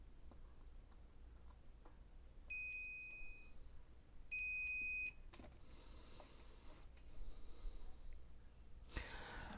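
Two steady electronic beeps from a multimeter continuity tester checking traces on a CoCo 2 computer board, each lasting under a second, clear and close over quiet room noise.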